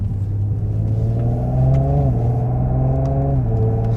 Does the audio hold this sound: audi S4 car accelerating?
yes